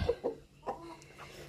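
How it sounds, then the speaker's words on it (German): A rooster clucks in a few short, soft bursts, fairly close but quiet, with pauses between the calls. "so ein schöner Hahn"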